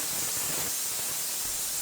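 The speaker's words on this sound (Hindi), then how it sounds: "अब कुकर में 1 सीटी आ चुकी है" A pressure cooker boiling corn vents steam through its whistle, giving a steady, loud hiss that holds without a break.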